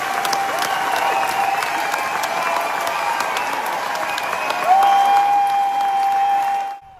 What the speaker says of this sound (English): Rachel was overwhelmed by the reception she got from the crowd as they showered her with applause for her performance